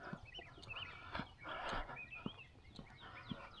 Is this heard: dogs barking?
no